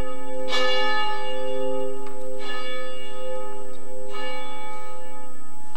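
A church bell tolls three times at the start of a worship service, each loud, ringing strike spaced about two seconds apart with long humming decay between.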